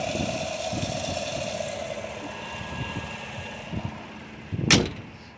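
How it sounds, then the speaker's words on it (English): A 2020 Chevy Suburban engine idles in a low, steady rumble outdoors, with a brief loud burst of noise near the end. "So you can hear the engine's running just fine."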